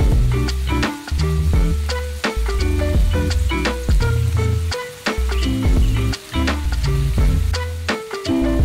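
Chopped liver and gizzards sizzle and fry in a pan after sauté mix goes in, a loud, close, steady crackle, broken by a few brief dips and overlaid by a strong rhythmic musical beat.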